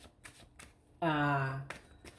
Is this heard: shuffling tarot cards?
yes